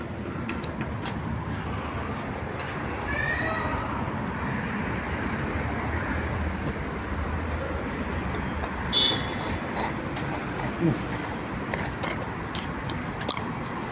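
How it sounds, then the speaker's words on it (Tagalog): Steady road traffic rumbles nearby, with a couple of short car horn toots rising above the constant roar. "Traffic ngayon mga kamista."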